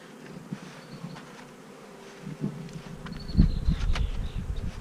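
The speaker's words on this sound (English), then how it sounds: "I see lots of bees" Honey bees buzz around a newly opened beehive, a close, continuous drone of many wings with individual bees passing near, growing louder toward the end.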